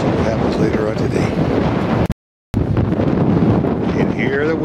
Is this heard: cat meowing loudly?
no